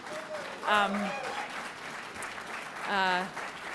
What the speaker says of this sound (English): Can we just have a round of applause for